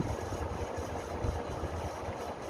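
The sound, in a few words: 1970s CG HB 1400mm ceiling fan running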